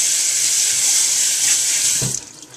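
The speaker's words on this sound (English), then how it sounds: "rinse the hat off real good" Steady hiss of running tap water pours over a snapback hat being rinsed in a sink, loud and continuous before cutting off near the end, leaving a few faint drips and handling sounds.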